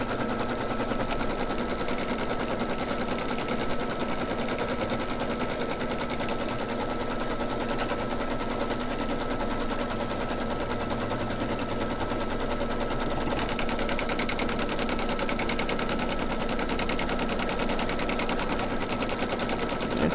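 An embroidery machine stitches a snowman mug rug, giving a steady, continuous mechanical whir with a fast needle chatter that holds evenly throughout, with no talking.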